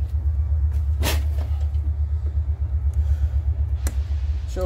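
A zero-turn lawn mower engine runs steadily as the machine is driven, a loud low rumbling drone with a few clunks and knocks over it, close up and without speech.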